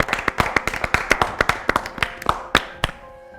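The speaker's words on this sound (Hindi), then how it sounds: "और तालियों में कोई कंजूसी नहीं।" A small studio audience at a televised sports quiz claps steadily as a contestant is welcomed: about a dozen crisp, distinct hand claps in a quick, slightly uneven rhythm that thins out and stops, with no talking over it.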